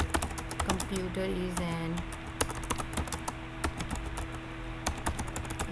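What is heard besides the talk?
typing on a computer keyboard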